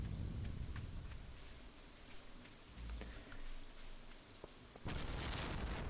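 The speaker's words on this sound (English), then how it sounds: "I almost got struck by lightning from that." Steady rain pours in the Stardew Valley farming game, a dense hiss with a low rumbling thunder crack from a lightning strike partway through, and a sharp burst of noise near the end.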